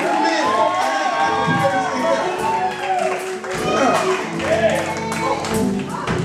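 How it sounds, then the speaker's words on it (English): Church congregation clapping and cheering for the men, a dense roar of voices, shouts and claps with music-like tones mixed in, loud and sustained throughout. "Give the men a hand clap of praise"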